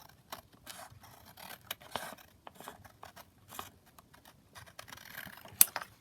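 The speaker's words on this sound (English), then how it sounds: "I'm just going to trim that down the side" Scissors snip down the side of a paper envelope pocket in a crafting session, a run of short close cuts and rustles with no one talking.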